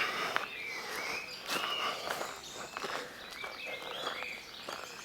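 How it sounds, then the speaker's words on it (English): Faint, scattered birdsong drifts through The Glen, a wooded walking spot, with thin chirps rising over the crunch of footsteps along a path. "I can hear the birds"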